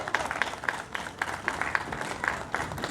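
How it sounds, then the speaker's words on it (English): Scattered applause from a small audience at a zoo bird show, with sparse hand claps pattering unevenly through the whole stretch at a moderate distance. "Let's give him a round of applause."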